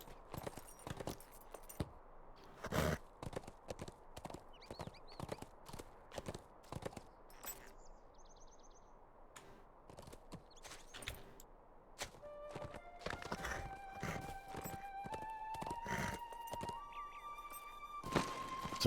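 Hooves clop in a steady walking rhythm as a horse moves along in a video game, faint and close, with scattered thunks and a short run of rising game tones near the end.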